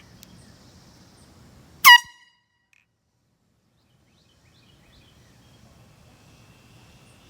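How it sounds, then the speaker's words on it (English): A medium-size Ozark Trail air horn gives one short, loud, piercing blast outdoors, then quiet with faint background hiss and distant ambience. "testing the air horn."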